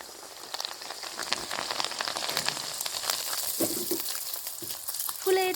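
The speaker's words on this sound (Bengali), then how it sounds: "মালপোয়া কিরম ভাজছে।" Malpua sweet fritters frying in hot oil, a steady crackling sizzle with scattered pops, moderately close, and a few brief voiced sounds near the end.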